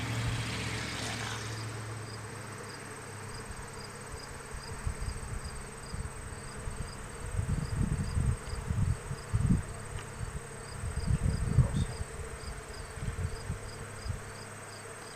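A steady insect-like hum drones throughout, with low rumbling swells in the middle and a faint high buzz overhead.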